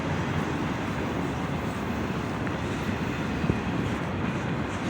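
An eastbound Union Pacific freight train passing through El Paso, Texas, on a cold day. It makes a steady, broad rumble of rolling cars that holds evenly for the whole stretch, with no voices.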